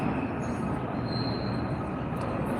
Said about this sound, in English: I'm at Erie train station.